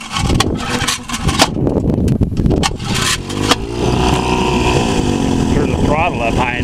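A 1955 Evinrude 7.5 hp outboard motor starts after a few rough pulls and clatters, then settles into a loud, steady running drone, with the pitch rising and falling as the throttle changes, and a voice briefly heard.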